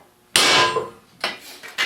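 A hammer taps a dent into a 1/8 inch metal plate before drilling: one sharp, ringing clang up close, then two lighter taps that fade quickly.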